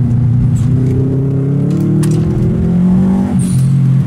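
A car revving and driving in the background, an engine note rising and shifting steadily for several seconds with a brief sharp burst near the end, close and loud, no talking.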